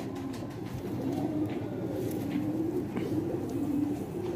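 Pigeons of an old 35 breed coo softly and repeatedly in low rhythmic phrases, close by, over a steady background hum.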